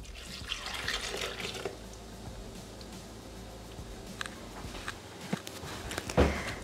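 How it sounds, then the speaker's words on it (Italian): Milk poured into a Thermomix bowl, a soft continuous liquid trickle and splash heard close up, with faint handling clatter and a brief thump near the end, no speech. "Aggiungere il latte"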